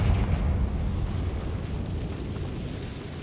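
A Confringo fire spell explodes in the Hogwarts Legacy video game, a deep rumbling blast that rolls loudly at first and then slowly fades into a low sustained roar.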